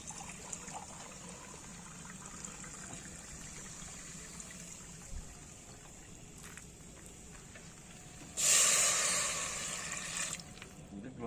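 Water is poured into a cooking pot of spiced rice during a lorry trip in Goa, a short, bright splashing gush near the end that follows a long quiet stretch of faint background hum.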